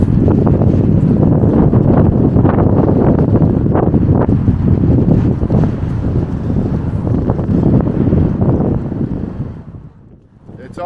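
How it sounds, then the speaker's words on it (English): Strong wind buffets the microphone in loud, continuous low rumbling gusts at an outdoor cemetery, easing briefly near the end before picking up again. "It's awful windy out here today."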